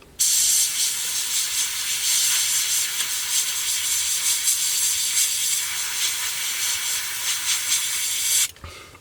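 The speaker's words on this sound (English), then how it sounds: "Just very close airbrush control work." An airbrush sprays paint in close control work on a 1/48 scale Airfix Sabre F4 model, a loud steady hiss that runs unbroken for about eight seconds before cutting off abruptly.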